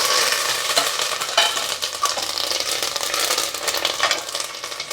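Curry leaves hit hot tempering oil, throwing up a loud, dense crackling sizzle that spits and pops continuously from close by, with no talking.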